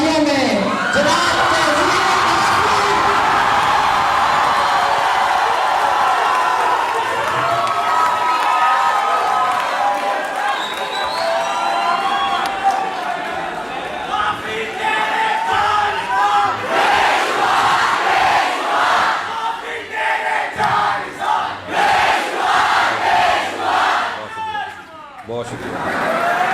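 Audience at a mushaira poetry gathering at the UVAS Literary Festival 2022 cheers, whoops and applauds loudly and steadily throughout, the crowd noise swelling in bursts toward the end.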